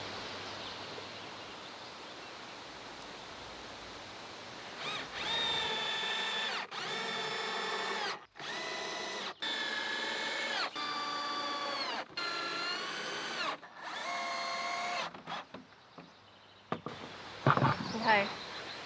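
A power drill drives screws into scrap wood for an outdoor storage shed, in about seven separate whining bursts of a second or so each, close and fairly loud, with brief pauses between and a little talk at the end.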